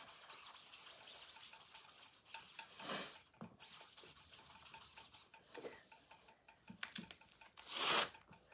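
A wet board eraser is rubbed and wiped across a work surface in repeated scrubbing strokes, close and fairly quiet, with a louder, harsher swipe near the end.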